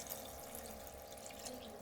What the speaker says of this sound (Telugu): ఇదిగోండి వాటర్ యాడ్ చేసుకుంటున్నా